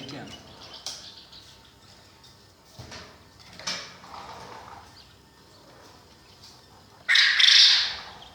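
Male quail birds kept in a backyard enclosure give a few sharp calls and squawks, the loudest burst near the end, amid quiet rustling and some voices.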